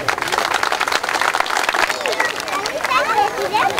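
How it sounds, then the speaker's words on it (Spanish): Crowd at an outdoor municipal event for a bridge construction launch applauding the municipal president, steady dense clapping mixed with cheering and chatter. "para el cual les pido un fuerte aplauso"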